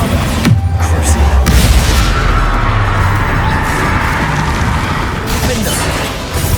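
Magical spell blasts from Confringo and Bombarda in Hogwarts Legacy, a dense run of loud booming explosions and crashes with a heavy low rumble, sustained throughout under a shouting voice.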